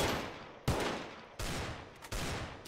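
An automatic pistol fires in Counter Blox in three or four quick rapid bursts, each a dense crackle of shots that fades slightly before the next burst, with no talking.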